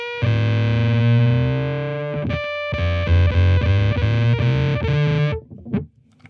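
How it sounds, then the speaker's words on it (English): An electric guitar through a Devi Ever BDSM distortion pedal rings out a thick, compressed, squelchy chord that decays, then a series of rapid bent notes and restruck chords, loud and alone before cutting off. "you've got that squelch, and you've got that compression, that sort of transistor breaking up compression"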